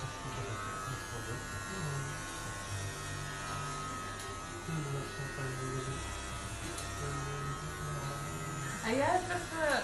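Electric clippers buzz steadily and close by while shaving a woman's head bald, a constant droning hum with voices talking over it.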